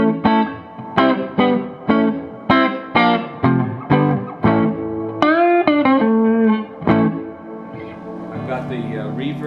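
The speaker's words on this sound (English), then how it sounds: "I've got the reverb and the vibrato in there" An electric guitar plays through a Frugal Amps blackface Super Reverb amp with reverb and vibrato on, a run of strummed chords with wavering tails and echo, then a bent phrase fading out, close and loud without talk.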